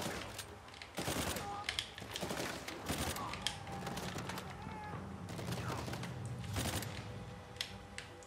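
Rapid bursts of automatic gunfire and scattered gunshots ring out during a firefight in the video game Uncharted 4, sharp crackling volleys over a continuous background of game noise.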